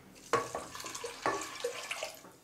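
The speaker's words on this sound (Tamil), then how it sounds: "1 கப்பு தண்ணி சேர்த்துக்கலாம்." A cup of water is poured into a cooking pot of lentils and greens for keerai kootu, a faint close splash with a couple of sharper pouring bursts.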